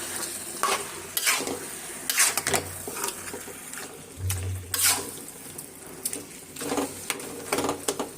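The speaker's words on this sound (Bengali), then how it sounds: "কচুটা আমি লাড়া দিয়ে নিই ভালো করে।" Taro stems being stirred in a cooking pot, repeated scraping strokes at an uneven rhythm over a soft background sizzle, close and fairly loud, with no talking.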